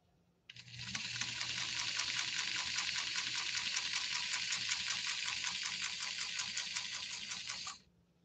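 A 1954 Singer 99K Mighty Mite sewing machine stitches steadily through leather in one continuous run of about seven seconds, giving a fast, even mechanical chatter close up that starts and stops abruptly.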